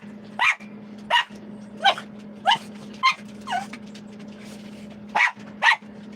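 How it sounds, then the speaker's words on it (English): Dog barking in short sharp bursts, about eight barks spaced irregularly over several seconds, close and loud over a steady low electrical hum. "Crazy dog."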